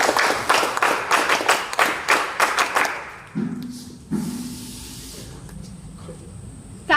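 NCC cadets at a college Republic Day celebration clap in a quick run of sharp, fairly loud claps for about three seconds, then fall silent except for a few scattered thuds and a faint hiss.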